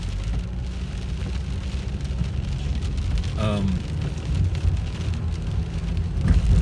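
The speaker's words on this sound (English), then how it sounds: "That rain is really coming down now." Steady heavy rain hisses against a car during a drive to work along a frontage road, a constant close wash of noise under the engine and road rumble.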